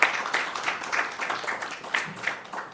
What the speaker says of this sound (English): Round of applause as they make their way up.